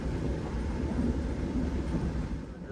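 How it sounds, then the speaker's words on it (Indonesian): The Bangunkarta train rolls into Madiun station with a steady low rumble and broad rail noise, continuous and fairly loud throughout, with no voices. "kereta api Bangunkarta tiba di stasiun Madiun"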